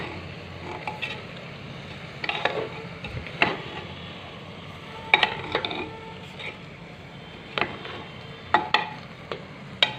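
Soaked rice is tipped into marinated meat frying in oil for a home-cooked biryani, a soft steady sizzle broken by scattered scrapes and clatters of stirring, close and quiet, with no talking.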